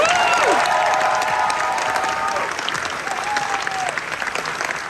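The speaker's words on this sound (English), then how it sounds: "just one more round of applause" A convention panel audience at GCX applauds steadily and loudly, with a few cheers and whoops rising over the clapping.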